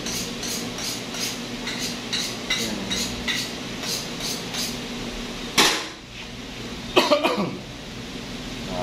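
A person coughs once sharply partway through, then a short burst of throat-clearing coughs follows, both close and loud against a steady low background hum.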